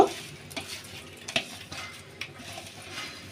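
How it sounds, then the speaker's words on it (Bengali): Tarly fish coated in chili powder, turmeric and salt fries in soybean oil with a low, steady sizzle, broken by a few sharp clinks and scrapes of a utensil against the pan. "মাখানোর পর একটু সামান্য করে ভেজে নেব"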